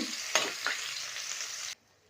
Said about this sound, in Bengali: মাছের তেলটা এরকম করে ভেজে নিয়েছি